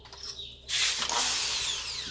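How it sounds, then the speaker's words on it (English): A 1/4 inch drill bites into a car bumper, a sudden loud whirring burst after a brief quieter start, sustained close up to the end. "Get your 1/4 inch drill ready"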